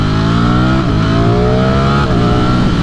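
A 2021 Ducati Streetfighter V4S motorcycle engine revs hard and loud, its pitch climbing steadily with brief dips at shifts, close and continuous with no voices.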